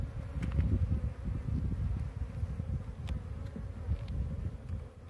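A dense swarm of honey bees hums steadily and close during a hive transfer of large combs on a rural property, with a continuous low buzzing drone and occasional individual insects passing near.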